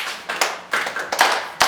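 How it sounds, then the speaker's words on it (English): Hands clap in a physics classroom, a loose series of sharp, fairly close claps with uneven timing that sounds like only a few people clapping, with no speech. "please clap for them."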